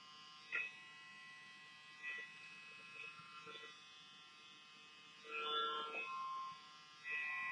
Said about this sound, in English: these clippers are really quiet, so I can kind of hear them working